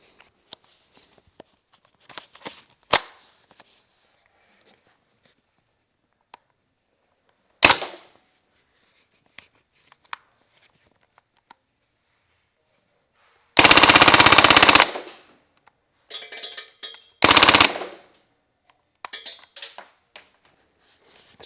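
An Umarex Strike Force CO2 air gun, in full-auto mode, fires scattered single cracks, then a loud sustained burst that rattles for over a second. A shorter burst comes soon after, with faint mechanical clicks in between.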